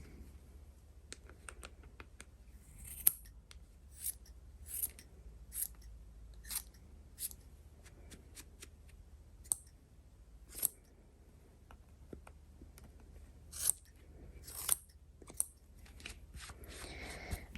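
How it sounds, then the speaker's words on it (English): Scissors trimming a yarn pom-pom, a series of quiet, crisp snips at irregular intervals, some in quick pairs, close up against a very faint background. "And you just keep going, giving it a bit of a trim."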